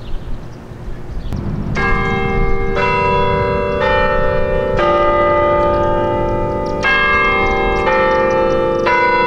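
Loud church bells ring out close by, successive strikes overlapping into a rich, sustained metallic chime that fills the air.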